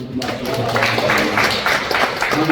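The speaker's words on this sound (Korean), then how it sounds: "수고하신 우리 전문 우리 위원들에게 박수 한번 보내가요" Audience applause for the committee members closing a church redevelopment and reconstruction seminar: a steady, fairly close wash of clapping that holds for a couple of seconds, with murmured voices underneath.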